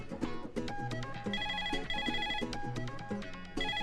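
A phone ringtone plays a bright, repeating melodic pattern of electronic tones, steady and moderately loud, with no talk over it.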